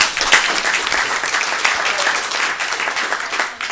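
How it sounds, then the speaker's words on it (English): A sustained round of applause from an audience at a gathering, dense steady clapping filling the room at close range, loud and continuous before tapering near the end. "give him a round of applause"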